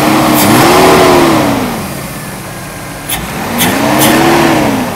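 A Mercedes W124 300CE engine revs during an acceleration test, loud and close, rising in a sweeping pitch, falling back, then climbing again, with a few clicks in between.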